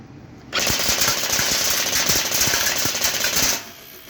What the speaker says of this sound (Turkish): Çok daha seri atış yapıyor ama sesinden dolayı çok gerçekçi olmuyor.